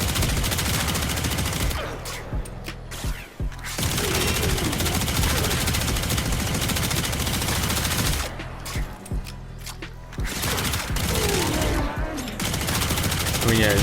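Rapid, loud automatic bursts from a Prisma Tetra rifle in Warframe fill nearly the whole stretch, with brief pauses between long strings of shots and faint game effects layered in.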